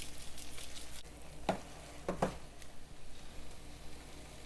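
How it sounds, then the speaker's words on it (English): Eggs fry in a pan for egg biryani, giving a steady, close sizzle with a few sharp scraping or stirring clicks partway through, no talking. "I fried this for 3 minutes."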